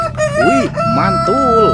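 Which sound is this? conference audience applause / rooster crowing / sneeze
rooster crowing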